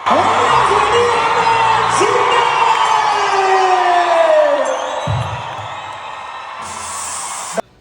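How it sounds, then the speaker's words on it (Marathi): A loud crowd at a live music show in Kolhapur cheers and shouts continuously, with whoops and yells rising over a dense roar that drops briefly near the end. "एंट्री सुरू झाली आणि क्राऊड एकदम जोशमध्ये ओरडायला लागला"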